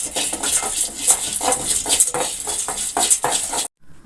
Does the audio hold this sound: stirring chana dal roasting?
yes